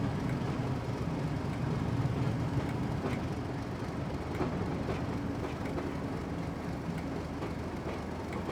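BR Class 31 diesel locomotive running on a 1950s Riviera line in Train Simulator, a steady rumbling rail drone with faint rhythmic wheel clicks, continuous and moderately loud with no talk.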